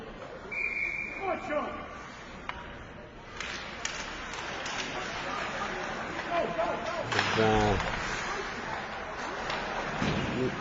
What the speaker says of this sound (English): They're waiting for the whistle.